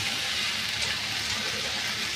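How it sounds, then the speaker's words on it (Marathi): A small amount of water poured into a hot pan in a home kitchen, a continuous close hissing, splashing rush that holds steady throughout. "थोडंसं पाणी टाकलं"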